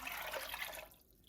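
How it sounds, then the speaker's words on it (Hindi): Tamarind water poured into water for samosa chutney, a soft splashing gush for under a second before it stops, close and quiet. "ये इमली वाला पानी भी डाल लेते हैं।"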